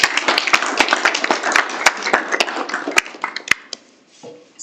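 A seminar audience applauds after a talk, a burst of sharp, scattered claps from a modest crowd that thins and fades out near the end.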